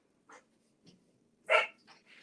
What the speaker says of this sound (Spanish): tengo a mi perrita